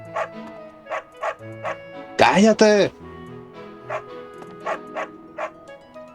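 A dog barks in short repeated yips throughout, near and fairly loud, with a person shouting briefly in the middle.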